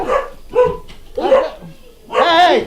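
Several puppies give high, yappy barks and yips in quick bursts, close and loud, with a short whimpering rise at the end.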